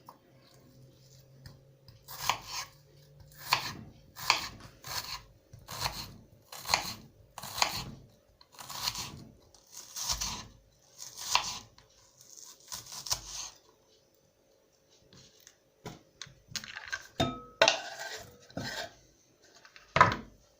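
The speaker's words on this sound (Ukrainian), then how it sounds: "Дрібнесеньким кубиком огірочок." A knife dicing cucumber into small cubes on a cutting board, a quiet series of crisp, evenly spaced chops that pause briefly and resume at a quicker pace, close and alone.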